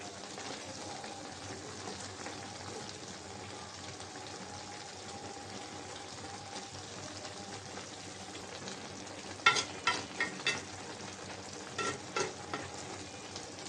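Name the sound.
stirring boiling hilsa fish curry with water lily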